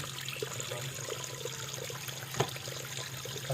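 Water trickles and flows steadily from a small fish-pond fountain, a soft continuous splashing with one brief louder splash partway through.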